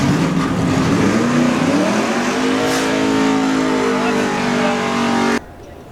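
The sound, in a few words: drag racing cars accelerating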